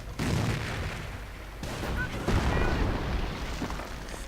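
Grenade explosions in a real-time strategy battle, a dense rumbling barrage of booms and crackling blasts with overlapping gunfire, loud and continuous throughout.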